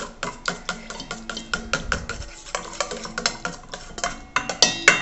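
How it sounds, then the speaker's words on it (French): A spoon scrapes and clinks rhythmically in a bowl while honey is stirred into a sugar scrub mixture, producing repeated gritty strokes at a steady pace, close and fairly loud, with a few brighter clinks near the end. "on mélange un petit peu"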